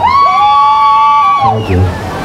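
A cheering squad at an outdoor mountain games event lets out a loud, sustained high whoop lasting over a second, then a short burst of crowd noise.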